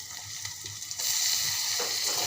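Chopped tomato sautéing in a pan for gavar bhaji, a steady close sizzle that jumps louder about a second in as the tomato hits the hot pan, then holds a dense crackling hiss.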